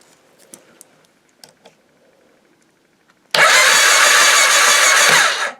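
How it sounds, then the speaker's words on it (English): Quiet faint clicks and rustles, then an engine suddenly cranks over with a loud, steady starter-motor whir for about two seconds before stopping, during a compression test. "Right, so then we want to crank the engine."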